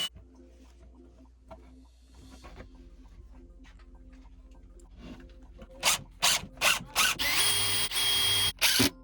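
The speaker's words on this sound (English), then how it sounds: "I'm gonna do my pre-drill hole. Just little pilot holes" Short bursts of a power drill boring half-inch pilot holes into wood, loud and close, several separate whirs near the end with quieter handling clatter before them.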